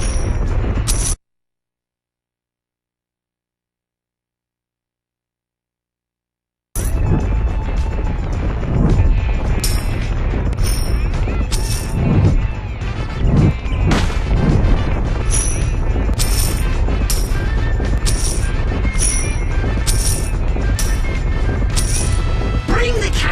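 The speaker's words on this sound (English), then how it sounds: "I have been experimenting with an amusing new weapon that I call the Super Baller!" Repeated booming, crashing weapon blasts from the Super Baller in Destroy All Humans! Path of the Furon, loud and dense over a constant game bed, with sharp impacts scattered across the stretch after a brief silent gap.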